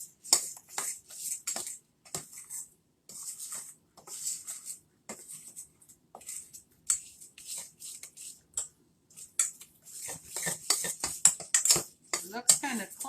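Spoon or whisk clinking and scraping in a bowl as ingredients for a German apple cake batter are mixed, rapid irregular clatter close by in bursts, with brief soft voice sounds between.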